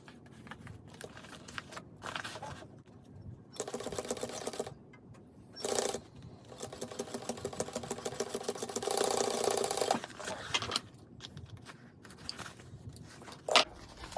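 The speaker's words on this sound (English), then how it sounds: "we're going to stitch a 1/4 inch straight across" A sewing machine runs in several bursts of rapid, even stitching as it sews a quarter-inch straight seam across an embroidered bag, with quiet handling noises and short pauses between runs.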